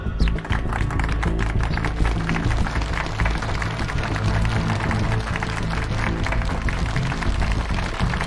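An audience applauds Commander Tan onto the stage at the founding ceremony of the Shanghai Chinese Chamber of Commerce militia bureau, with dense, steady clapping that holds at an even level for about eight seconds.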